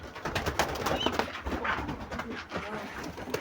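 Homing pigeons cooing and pecking at food close by, soft repeated throaty coos over busy scratching and pecking, with a few flutters and a faint voice in the background.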